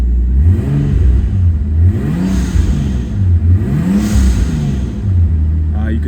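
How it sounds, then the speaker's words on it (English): A 1998 Nissan Skyline R34 25GTT with turbo and aftermarket exhaust revs repeatedly while warming up, its loud engine note rising and falling in swells, with a faint blow-off valve hiss near the end. "You can kind of start hearing the blow-off valve there."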